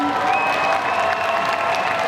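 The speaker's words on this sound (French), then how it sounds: "on applaudit bien fort Gohan et Chi-Chi" A convention audience at a Belgian World Cosplay Summit selection claps loudly for cosplayers in Dragon Ball Z costumes, with dense sustained applause and crowd cheering filling the hall throughout.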